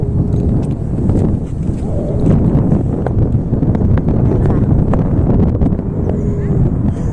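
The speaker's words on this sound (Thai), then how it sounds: "ลมแรงนิดนึงนะคะ" Strong wind roars across the microphone at a Golden Gate Bridge viewpoint overlooking the ocean near sunset, a loud, continuous buffeting rumble that fills the whole stretch without letting up.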